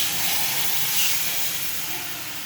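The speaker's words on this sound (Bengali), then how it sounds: "এই জলটা দিয়ে দেবো।" Water poured into fried spice masala in a pan while cooking bitter gourd chorchori, giving a steady, loud hissing sizzle that holds evenly throughout and eases off slightly toward the end.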